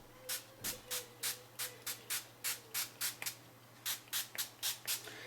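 Dye sprays onto fabric inside a small color catcher spray booth, a rapid series of short hissing bursts from a pump sprayer in a steady rhythm, close and moderately quiet, about eighteen pumps with no talk.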